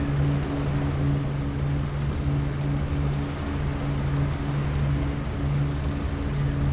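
Aircraft engines idling at low RPM in Microsoft Flight Simulator 2020, a steady low droning hum with a constant tonal throb under a broad rushing wash, even and unbroken throughout.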